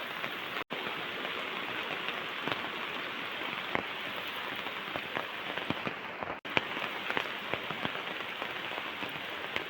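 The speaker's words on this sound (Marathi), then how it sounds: "पाऊस तर भरपूर पडतोय।" Heavy monsoon rain falls steadily over the Konkan countryside, a loud continuous wash of close rainfall sprinkled with crisp individual drop impacts, briefly cut out twice.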